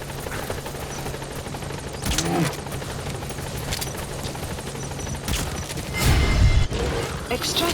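Support helicopter arriving in Metal Gear Solid 5, a steady rotor drone under bursts of gunfire, with a louder rumble as it closes in near the end.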